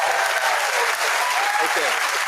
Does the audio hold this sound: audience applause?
yes